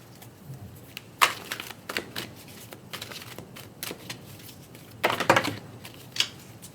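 Psychic Tarot Oracle cards being shuffled by hand, with crisp riffling bursts and soft flicks that come in uneven clusters, close and fairly quiet.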